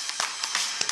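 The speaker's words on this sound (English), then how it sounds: "Clap with me and say hooray." Children clapping along to a cheerful sing-along song with a clown at a Children's Day show, a few quick claps falling in rhythm over bright background music.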